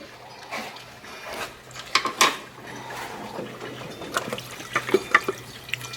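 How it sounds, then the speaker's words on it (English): Coolant water drains and splashes from a car engine as its water pump is removed, a steady trickle broken by sharp drips and metallic clinks from tools nearby. "See all the water coming out of there?"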